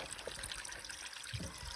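Water pours steadily from a stuck tap straight onto the ground outside an abandoned house in France, a continuous close trickling splash with no talking.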